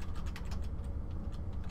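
Rapid clicking of keys on a computer keyboard, steady and fairly quiet, with a low hum underneath and no talking.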